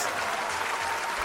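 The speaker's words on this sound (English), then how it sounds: "I need the biggest applause in the universe." Brief burst of dense applause from a crowd, loud clapping filling the moment.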